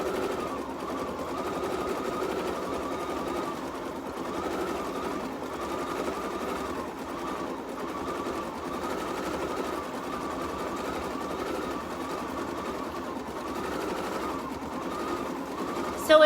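An embroidery machine stitches quilting on a hooped project, a steady fast mechanical whir and needle chatter running continuously at moderate volume.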